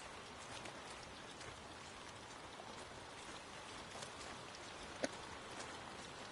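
Steady, even rainfall in the video game Lushfoil Photography Sim, set at East Maddon Park in Northern England, hissing continuously and quietly with one brief small click near the end and no talking.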